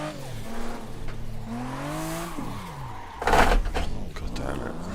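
Toyota Supra drifting in the racing game Assetto Corsa, engine note rising and falling with revs and a burst of tire squeal midway, close and loud, with a voice talking over it.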